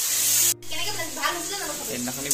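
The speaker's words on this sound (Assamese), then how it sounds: "তো বাইদেউ আমাৰ কেৰাহীত মাংস দি দিলে" Meat sizzling as it fries in a wok, a steady close hiss with a brief cutout early on, broken by faint crackles and a little low background voice.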